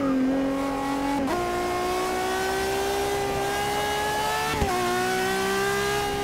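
Ferrari FXX K engine in the video game Forza Motorsport 6, a loud sustained roar rising steadily in pitch through the gears, with two quick upshifts breaking the climb.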